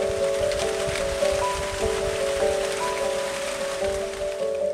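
Steady rain falling on hills and a resort rooftop, an even close patter that holds throughout under a faint constant hum, with no one speaking.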